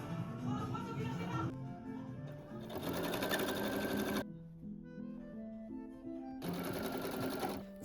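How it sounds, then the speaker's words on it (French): Sewing machine stitching a dress, bursts of rapid mechanical whirring that start and stop, with quiet pauses between runs. "Ça fait 4 heures à peu près que je couds sans m'arrêter."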